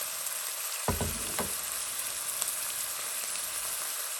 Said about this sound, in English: And then keep stir fry for about 1 to 2 minutes.